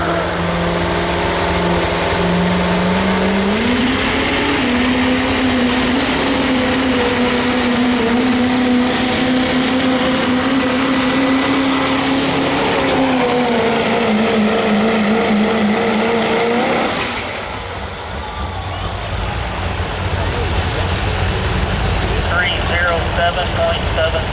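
A diesel pro street truck spools up at a truck and tractor pull in Sedalia, Missouri, its engine droning loud and rising in pitch, then dropping off abruptly, with an announcer talking over the roar.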